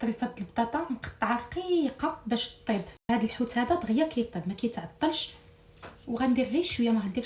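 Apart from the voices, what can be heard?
No everyday noise stands out behind the speech.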